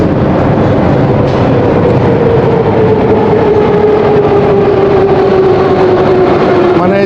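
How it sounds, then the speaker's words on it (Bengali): A train rolls into a station loudly with a continuous rumble and a long, slowly falling squeal of brakes or wheels, close and sustained throughout. "আমার ট্রেন চলে এসছে"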